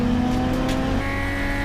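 A PRO3 race car at Pacific Raceways roars past on the track, its loud steady engine note shifting pitch partway through as it goes by, with no talking.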